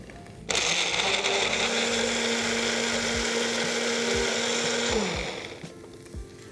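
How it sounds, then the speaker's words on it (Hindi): A blender grinds tomatoes into puree with a loud, steady whir for several seconds, then winds down, followed by a few soft clunks. "चलिए इसे ले लेते हैं एक ब्लेंडर जार में"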